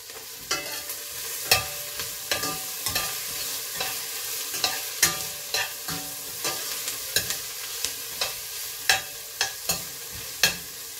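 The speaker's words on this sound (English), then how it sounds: "So this is frying up nicely." Food sizzles steadily in a frying pan while a utensil stirs it, producing a regular series of sharp scraping clicks about once a second, close and without talk.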